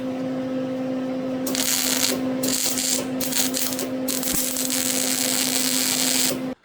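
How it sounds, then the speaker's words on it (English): Someone welds a crack on a Chevelle part: loud, crackling, buzzing bursts broken by brief pauses like separate tack welds, over a steady electrical hum, ending abruptly. "Let me at least tack it, and I'll see if I can weld this up."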